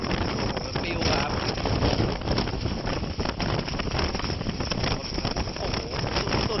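Strong wind blasts against K2 Explorer and K2 Motorrad camping tents outdoors, a loud, continuous roaring rush with heavy buffeting on the microphone.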